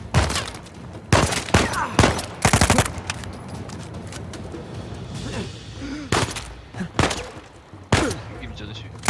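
Gunfire in the video game Uncharted 4: several sharp, loud shots and short bursts separated by quieter gaps, with talking heard between them.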